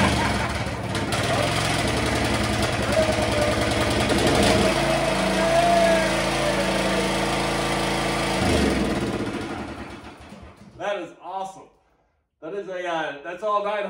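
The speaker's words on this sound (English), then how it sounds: "That's just a little engine, but it's a little lawnmower" A small 9-horsepower John Deere lawn mower engine, its carburetor newly cleaned and replaced, runs loudly with a steady chugging hum, then cuts off, followed by someone talking in the quiet.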